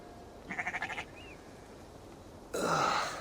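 Sheep bleating in Assassin's Creed Valhalla, one short wavering bleat close by, followed after a pause by a brief burst of rustling noise.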